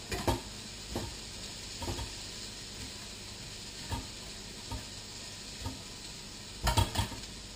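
Garlic fries with chorizo in a pan, a constant close sizzle punctuated by regular scraping knocks of the stirring utensil against the pan, with no speech.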